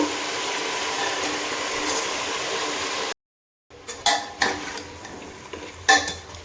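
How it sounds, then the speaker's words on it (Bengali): Chicken pieces frying with ground spices in a pan while a utensil stirs and scrapes, giving brief metallic clinks and scraping strokes over a steady low sizzle, with a short silent gap midway. "দিয়ে আবারও ভালো করে ভাজা ভাজা করবো"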